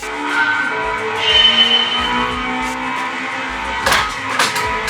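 Race car in a video game at Fuji International Speedway, a continuous engine drone with revving rises and brief tire noise, fairly loud and without talk.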